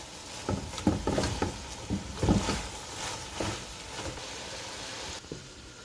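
Vegetables and masala for Chinese pulao are stir-fried on a high flame, with a steady sizzle broken by repeated scraping, clattering strokes of a spoon against the pan, then a quieter tail.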